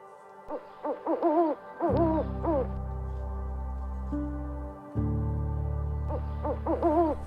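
A snowy owl gives repeated hooting calls in short bursts over a steady low drone, loud and close, with a pause before more hoots near the end.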